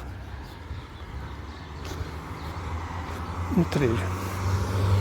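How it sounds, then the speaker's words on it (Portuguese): Street traffic on a busy city road, a steady low rumble of cars with a vehicle passing close by near the end, heard while someone walks along the sidewalk and a person speaks briefly. "Tem muito carro, muito barulho"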